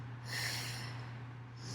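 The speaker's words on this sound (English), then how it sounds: "Inhale, exhale." A single long exhale during a yoga flow, a soft breathy rush of air close to the ear, alone against a faint steady hum.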